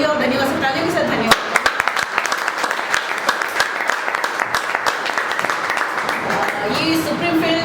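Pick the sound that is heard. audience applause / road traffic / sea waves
audience applause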